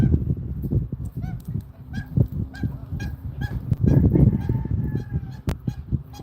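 A small pet goose honks again and again in short, loud, nasal bursts, close by, with scuffling and movement between the calls.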